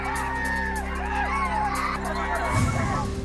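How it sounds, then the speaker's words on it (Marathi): A large crowd of villagers gathered in a village in Dhule to watch a buffalo fight, a steady murmur and shouting of many voices with a low engine-like hum underneath. "रेड्याची टक्कर पाहण्यासाठी पंचक्रोशीतील नागरिकांची मोठी गर्दी"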